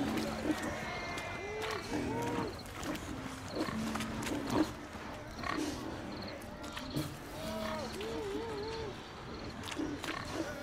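Penned pigs grunting in the video game The Witcher 3: Wild Hunt, repeated grunts and squeals over game ambience with hoof-like clatter, while characters talk at the same time.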